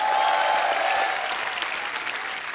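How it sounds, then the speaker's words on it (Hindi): Studio audience applauds steadily for Karan Johar on a Hindi comedy talk show, a dense, even wash of clapping that holds strong throughout and eases only slightly toward the end, with no one speaking over it. "तालियां हमारे करण सर के लिए"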